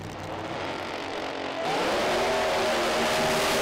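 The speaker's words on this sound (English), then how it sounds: "Next out is Steve Hall in his absolutely beautiful 55 Chevrolet" A 1955 Chevrolet pro mod drag racing car engine, first a low rumble at a distance, then a loud, rising roar as it revs hard and accelerates.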